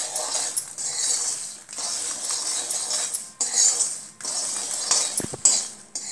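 Makhana (lotus seeds) roasting in desi ghee, stirred continuously with a metal spoon against the pan, giving steady scraping and clinking in bursts with brief pauses, close and moderately loud, no talking.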